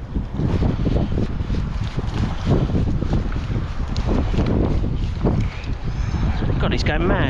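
Strong wind blowing outdoors by the water during fishing, a loud continuous buffeting roar hitting the microphone throughout, with a person speaking beneath it.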